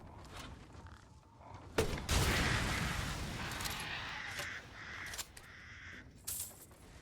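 Crows caw in Resident Evil Village, with harsh calls scattered over the clip while a loud blast bursts out near the middle, followed by rustling game noise and a few more sharp caws.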